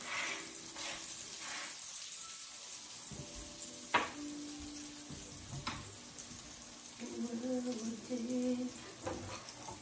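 Food frying gently in a pan over low heat gives a soft, steady sizzle with occasional utensil clicks and light clatter, close and quiet, with no talking.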